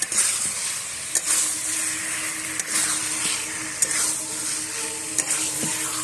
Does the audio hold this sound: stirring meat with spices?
yes